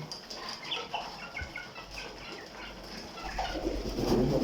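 Pet pigeons at feeding time, soft cooing and fluttering calls scattered over a continuous low rumble, faint and nearby, swelling toward the end with no speech.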